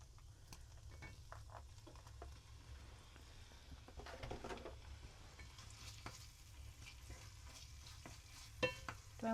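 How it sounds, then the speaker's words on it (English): Shrimp hit an enameled cast iron braiser with a steady, soft sizzle of frying, broken by scattered utensil stirs and scrapes, with a low background hum underneath. "I'm gonna add the shrimp."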